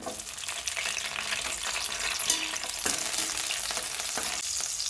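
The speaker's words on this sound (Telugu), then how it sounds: "ఆయిల్ వేడెక్కింది కదండి, ఇప్పుడు పచ్చిమిర్చి వేసుకోవాలి" Green chillies fry in hot oil for gongura chutney, giving a loud, steady sizzle and crackle that runs throughout with a few brief stirring scrapes and no voices.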